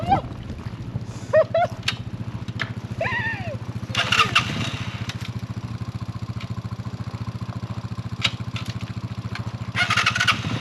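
A motorcycle rolls slowly in first gear on a Mongolian trail, its engine a steady low putter throughout, with brief rattles, knocks and a few bursts of higher mechanical noise near the end.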